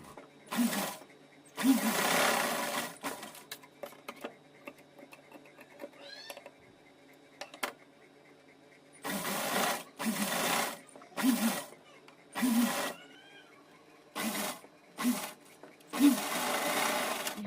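A sewing machine stitches a cotton dress in several loud running bursts of whirring needle motion, separated by quiet pauses with faint handling noise.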